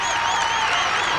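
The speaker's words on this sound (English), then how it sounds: "Crowd up on their feet, applauding Hofstra's terrific effort again." Basketball crowd on its feet applauding Hofstra, a steady wash of clapping and cheering that stays loud and even throughout, with an announcer's voice faintly over it.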